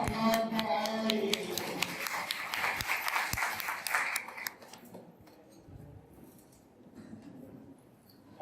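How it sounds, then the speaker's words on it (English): A conference audience at an education event in Pune gives a round of applause, dense clapping for about four seconds that then fades to a quieter room with scattered sounds. "that beautiful round of applause for all of you"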